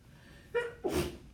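A single close sneeze, a short sharp intake followed by a loud burst, with no talking around it.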